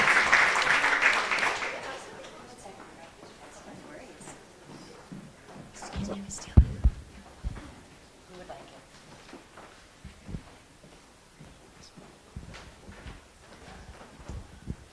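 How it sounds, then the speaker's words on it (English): Audience applause for a team of college students at the World Jewish Congress annual college pitch competition: a short burst of clapping at the start that fades within about two seconds, followed by quiet shuffling, footsteps and low voices. "Round of applause for our pitchies."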